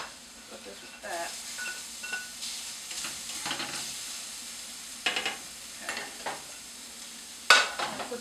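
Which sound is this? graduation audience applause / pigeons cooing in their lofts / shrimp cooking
shrimp cooking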